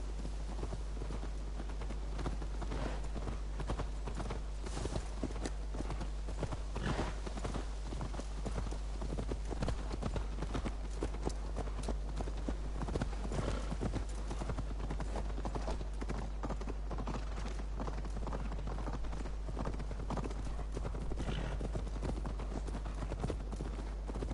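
Horse hooves clip-clopping as a rider travels in Assassin's Creed Valhalla, a steady rhythmic stream of hoof beats over a constant low hum, with occasional faint voice in the background.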